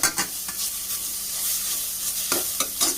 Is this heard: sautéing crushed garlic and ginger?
yes